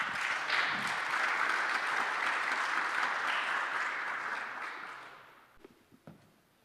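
Audience applause at a pitch competition during a London VC summit rises as a dense, loud roar of clapping, then thins out and fades into a few scattered claps.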